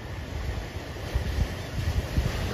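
Choppy ocean surf during a hurricane on a La Jolla, California beach, rolling and breaking in uneven low surges under steady wind noise buffeting the microphone, with heavier crashes toward the end.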